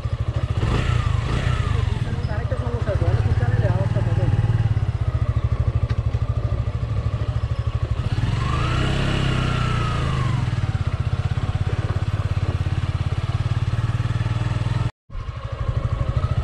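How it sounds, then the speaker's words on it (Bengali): A new 2019 Suzuki Gixxer SF FI ABS motorcycle on a test ride, its engine holding a smooth, steady drone with gentle rises in revs, close and loud throughout, broken by a brief dropout near the end. "নতুন জিক্সার এসএফ 2019টা একটু টেস্ট ড্রাইভ দেই"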